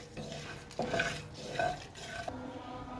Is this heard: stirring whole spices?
yes